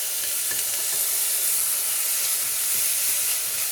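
Onions and tomatoes sauté in a hot pan for rice-and-dal cooking, giving a steady, loud sizzle and steamy hiss throughout with light stirring scrapes, and no voices.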